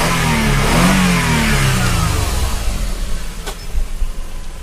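Outside a 2000 Toyota Estima G-Spec V6 AWD, the engine revs once in a strong rising-and-falling swell, then drops back to a steady idle, close and loud with no voices.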